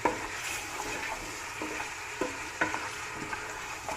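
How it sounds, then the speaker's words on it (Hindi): Mutton chops are stirred in a hot pressure cooker, with a soft sizzle and occasional scraping clicks of a spoon against metal. "अच्छी तरह इसको मिक्स कर दिया"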